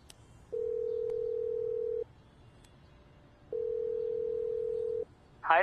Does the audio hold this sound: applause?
no